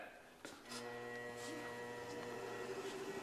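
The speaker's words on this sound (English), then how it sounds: "I'm going to go ahead and spin it" A wheel balancing machine spins a wheel, its motor whine climbing in pitch and settling into a steady hum beneath someone talking nearby.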